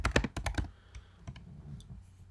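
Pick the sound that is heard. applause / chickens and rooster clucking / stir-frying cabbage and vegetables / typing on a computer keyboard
typing on a computer keyboard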